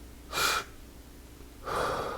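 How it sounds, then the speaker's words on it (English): Two deep breaths are taken slowly as a calming breathing exercise, each a soft, airy rush heard close against quiet room hiss, separated by a short pause. "a deep breath and then like a nice little short breath afterwards"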